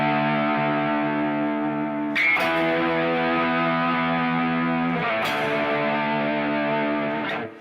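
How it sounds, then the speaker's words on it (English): A heavily distorted electric guitar plays sustained, buzzing chords with two sharp restrikes along the way, loud and close, with no talking. "it's exceptionally cool if you have distortion on"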